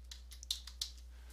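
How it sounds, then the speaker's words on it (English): Someone types a few quiet keystrokes on a computer keyboard, giving soft, irregular clicks close by over a steady low hum. "We can click here and type in project,"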